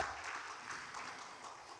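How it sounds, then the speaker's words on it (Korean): Faint, distant clapping from the audience welcomes a speaker to the stage at a round-table session of the Nogeun-ri Global Peace Forum, a brief, soft burst of applause. "여러분 환영의 박수 부탁드리겠습니다"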